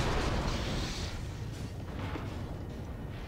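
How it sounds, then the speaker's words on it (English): Explosions rumble through a Star Wars: The Force Unleashed video game scene, a loud, heavy blast dominating the opening second and then a continuous low roar and crackle of debris that slowly fades. "Just explosions everywhere."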